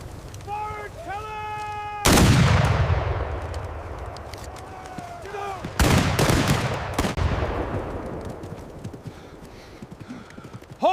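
Musket volleys crack out on a Revolutionary War battlefield at Monmouth, two sharp loud fusillades each trailing into a long rolling echo, with horse hooves and shouted orders nearby.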